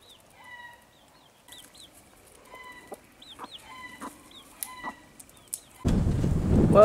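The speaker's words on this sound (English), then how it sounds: "That's a very handsome cockerel." A rooster clucks and chirps in short repeated bursts, fairly close, in a forest, before a loud rushing noise suddenly takes over at the end.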